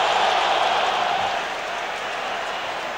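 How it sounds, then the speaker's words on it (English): A roaring stadium crowd at the 2003 Broncos at Colts wild card playoff football game forms a dense, loud wash of cheering that eases slightly after the first second, with no talking. "With this crowd noise, because it is loud, and I hope you can hear it at home"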